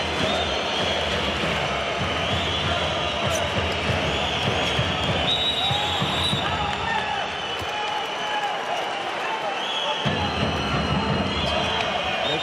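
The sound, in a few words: Vardar handball crowd being wound up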